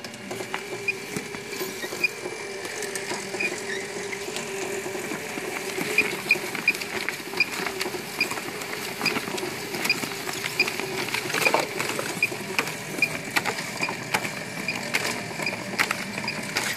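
A U2Pro inkjet printer fitted with an NPXB head runs a demo on a PP3000 line printing plastic bags, giving a steady mechanical whir with rapid ticking and clicking patter, continuous and fairly close, with no talk.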